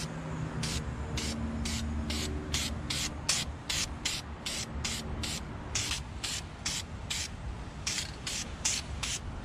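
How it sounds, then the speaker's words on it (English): Short rhythmic bursts of an aerosol primer can spraying onto airboat engine headers, around twenty quick hisses in steady succession, close and fairly clear over a faint background hum. "So here the headers are fully primed."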